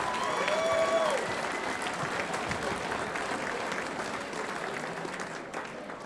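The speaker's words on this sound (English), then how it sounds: "Give these two another round of applause." Sustained crowd applause at an MMA event honoring two professional fighters after a three-round bout, a broad dense wash of clapping that holds steady and slowly fades, with a brief tonal whine near the start.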